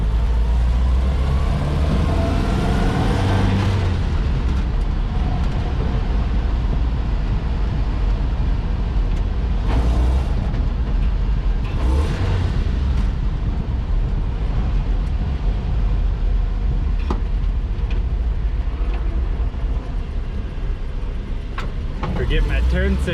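A 1966 Toyota Stout on a Toyota 4Runner chassis drives with a loud, continuous engine and road roar, shifting through gears, while someone talks over the noise from inside the cab.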